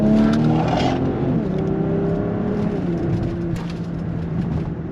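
A 500hp BMW engine revs hard and accelerates in sport mode close by, a loud sustained roar with rising tones and no talking.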